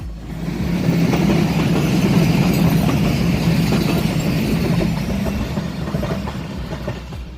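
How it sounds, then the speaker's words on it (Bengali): The Rupsha Express, an intercity passenger train between Khulna and Chilahati pulling PT INKA coaches, rolls past on the rails with a loud, continuous rumble and rattling wheel noise that swells and then eases slightly. "খুলনা চিলাহাটির মধ্যে চলাচলকারী জনপ্রিয় ট্রেন আন্তনগর রূপসা এক্সপ্রেস"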